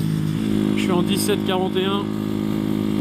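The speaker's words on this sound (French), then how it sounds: "La moto ne hurle pas avec la grosse démule que je lui ai mis." A 125cc Masai scrambler motorcycle cruising steadily on a main road, its engine droning evenly at speed beneath a voice talking over it, with wind noise.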